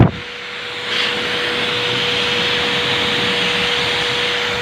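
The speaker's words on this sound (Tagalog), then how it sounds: "Ayan, patutuyo na po sila sa blower." A loud, steady blower drying a dog's fur roars without pause after a short start, a constant whooshing rush of air close by.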